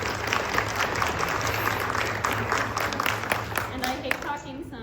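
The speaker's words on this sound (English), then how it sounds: "So everybody give her a round of applause" A school board Q&A audience applauds, a dense, even wash of clapping held at moderate level, with some talk mixed in underneath.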